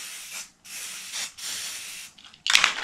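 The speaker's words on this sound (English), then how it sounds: "And then we're gonna spray can that." Several bursts of hissing from a spray paint can painting tabletop terrain, each lasting about half a second with short gaps, the last one louder and sharper, close by with no talking.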